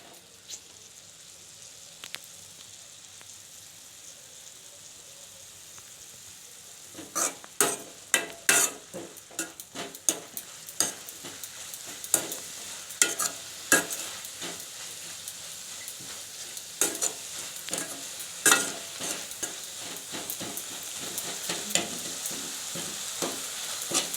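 Drumstick leaves sautéing in a hot pan, with a soft steady sizzle under repeated sharp scraping and stirring clatters that start a few seconds in and continue close up, no talking.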